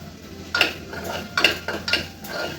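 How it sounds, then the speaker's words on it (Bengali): Spoon scraping and clinking in a pan as cooked plain rice is stirred into fried chicken and vegetables with ghee, several distinct scrapes in an irregular rhythm, close up with no talk. "সবজি আর চিকেনটা ভালো করে ভেজে নিয়েছি, এবার ভাত দিয়ে দিলাম এর মধ্যে।"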